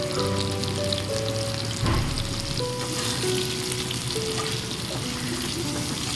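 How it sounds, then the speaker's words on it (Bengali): Potatoes fry in hot oil with nigella seeds, giving a dense, steady crackling sizzle close by, with the occasional stir or scrape of a utensil in the pan and no voices. "তারপর ওই তেলেই দেব কালো জিরে ফোড়ন আলুগুলো তাতে তুলে দেব অল্প নুন দিয়ে হালকা লাল না হওয়া পর্যন্ত একটু ভাজবো"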